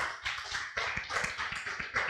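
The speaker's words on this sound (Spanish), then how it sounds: "Denle un aplauso a nuestro Dios." Congregation at a church service clapping for God, a ragged burst of hand claps with uneven rhythm and a few louder individual claps, close and continuous for a couple of seconds.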